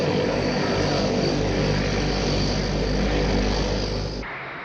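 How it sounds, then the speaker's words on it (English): Transall troop carrier, a Franco-German military transport plane with licence-built Rolls-Royce engines, droning loudly and steadily with a deep propeller roar before dropping off sharply at the end. "This Franco-German plane, the Transall troop carrier, has Rolls-Royce engines built under license on the continent."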